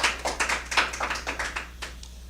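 A studio audience at a TV show applauding a guest, with a short burst of clapping that swells and then tapers off to a few scattered claps.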